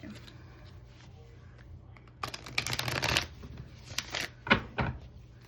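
A deck of cards riffled and shuffled at close range in short bursts, with quiet handling and rustling in between, the shuffles growing louder and busier toward the end.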